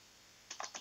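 A short burst of typing on a computer keyboard while entering code in an editor, a few quick clicky keystrokes close by after a moment of quiet.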